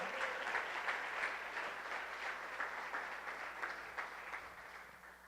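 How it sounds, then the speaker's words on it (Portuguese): Congregation in a church worship service applauding together, a steady dense wash of many hands clapping that stays fairly even and slowly fades slightly over several seconds, with no voices standing out. "Se você crê nisso, aplauda ao Senhor."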